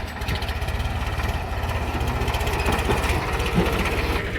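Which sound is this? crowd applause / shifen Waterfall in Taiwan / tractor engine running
tractor engine running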